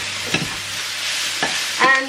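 Spinach and peas cook in a pan with a steady, close sizzle and a few soft stirring scrapes, no voices.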